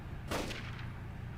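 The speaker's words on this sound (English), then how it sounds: "There was the dull roar of a gunshot," Single gunshot in the video game 428 Shibuya Scramble: one dull, booming report that bursts out suddenly and fades into a short tail, quiet overall against a low background.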